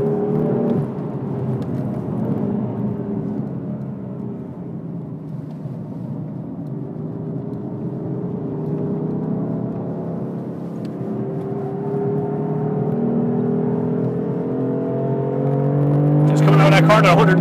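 BMW M4 driven hard on a race track at Mondello, its engine droning and rising steadily as it accelerates through a corner, with a voice talking over it throughout.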